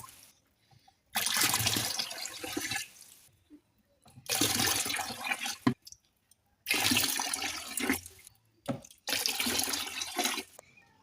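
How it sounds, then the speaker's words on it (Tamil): Water from a fish tank is poured into a bucket in four separate splashing gushes, each lasting about two seconds with short quiet gaps between, close and fairly loud. "இப்போ நம்ம தண்ணி அள்ளி அதில் வாளியில் தான் ஊற்ற போகிறோம்."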